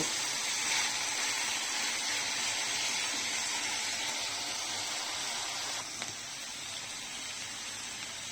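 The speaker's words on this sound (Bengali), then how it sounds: "বেশ খানিকটা পানি উঠে এসেছে আলু আর পেঁয়াজের কুলি থেকে এখন ভেজে ভেজে পানিটা শুকিয়ে নেব" Potatoes and onion stalks fry in a pan while their released water cooks off, giving a soft, continuous sizzle and hiss that stays fairly faint and even.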